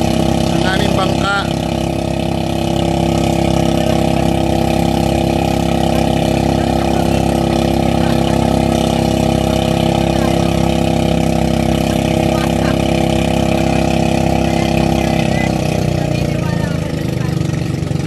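A motorboat engine on a Philippine island-hopping boat runs steadily and loudly throughout, a continuous droning hum with a faint voice briefly audible over it.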